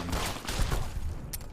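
Gunfire in the video game Fallout, a short cluster of muffled shots lasting about a second and a half, moderately loud, followed by a brief bright crack near the end.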